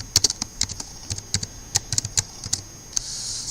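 Fingers tap a computer keyboard in an irregular run of crisp, close clicks, ending with a Ctrl+S save keystroke followed by a soft lingering hum.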